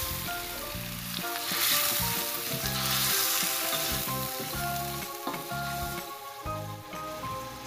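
Boiled beef and a splash of its cooking broth sizzle in a pan with crispy ground dried chili for beef fried rice, a loud, steady frying hiss with repeated scraping stirs throughout.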